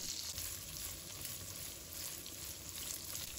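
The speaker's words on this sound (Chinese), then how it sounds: "我们先把豆腐煎制一下，这样煎出来的豆腐才够香。" Blocks of tofu pan-frying in a wok make a soft, even sizzle that holds steady throughout, close by and without voices.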